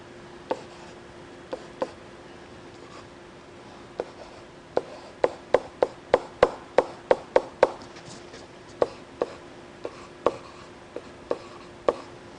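Chalk or marker strokes on a lecture-hall board while a graph of a uniform probability density is drawn, giving a series of sharp, distinct taps and scrapes, scattered at first and then quick and clustered, with no talking.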